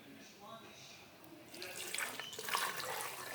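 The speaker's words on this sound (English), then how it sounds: "Then I'm going to add some water." Water splashes and trickles for a couple of seconds after a quiet start, a close, bright pouring sound of a small amount of water poured into a blender, with no talking over it.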